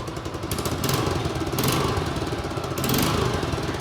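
A Suzuki GSX150 SF motorcycle's small single engine idles close by and then takes a few short revs, the throttle blips rising and falling in quick succession.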